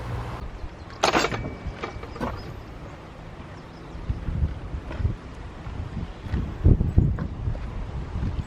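Gusty wind buffets the microphone on a windy day near a waterfall walk, with irregular rumbling bursts that swell and fade.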